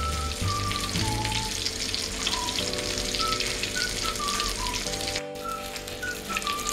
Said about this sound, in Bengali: এবার আমি চিংড়ি মাছটাকে দিয়ে দেব ভাজার জন্য